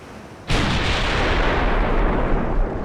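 Warship gun turrets in a naval battle game fire a sudden loud booming salvo that rolls into a sustained rumbling roar, close and heavy, with no voices.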